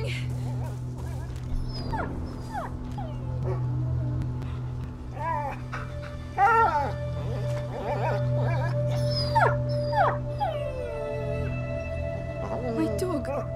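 A dog howling and whimpering in the video game A Plague Tale: Innocence, a repeated series of high, wavering cries and whines over a constant low game ambience, fairly close and loud.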